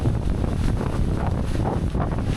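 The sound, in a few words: strong wind during bike ride in Wayanad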